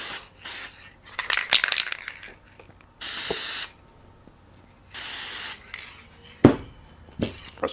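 Krylon spray paint sprayed as a third coat onto a pinball backglass mirror project, heard as several separate hissing bursts of about half a second each, close and fairly loud, with clicks and handling noises in between.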